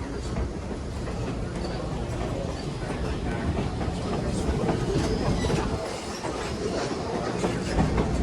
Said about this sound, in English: Now let's see if there's another Northeastern diesel on this one.